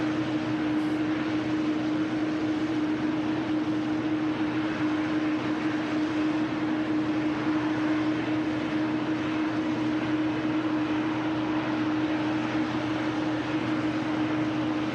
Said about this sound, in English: There's a KLM about to touch down